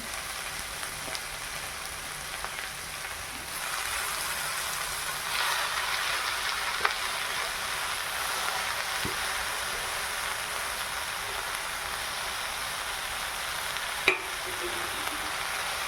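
Finely chopped cowpea leaves sizzling in a pan, a steady broad frying hiss throughout with occasional small pops and clicks, no voices.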